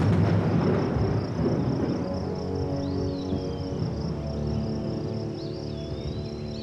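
Low thunder from an approaching storm rumbles and rolls away in the opening seconds, then fades under a steady chorus of chirping insects with faint birdlike calls.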